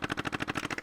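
Recoil mechanism of a BeswinVR ScarVR VR rifle firing in rapid bursts, about ten quick mechanical thumps in under a second, close and fairly loud with no talking.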